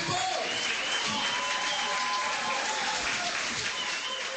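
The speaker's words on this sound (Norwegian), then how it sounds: "Let's give him a big round of applause." A studio audience applauds as Sebastian is introduced, dense sustained clapping and crowd noise at steady volume for the whole stretch.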